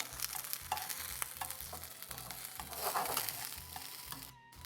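Zucchini pieces sizzle in a hot pan, a steady faint crackling fry broken by soft bumps and stirring scrapes every half second or so, with no talking.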